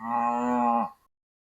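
A single loud, sustained moo from a bull calf in a herd of half South Pole, half Angus cross calves, lasting nearly a second before cutting off to silence.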